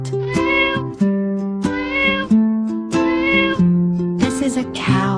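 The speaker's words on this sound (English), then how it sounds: "This is a cat." Cartoon-style cat meows repeat in short stepped phrases, loud and up front over a bright children's song backing with no talking.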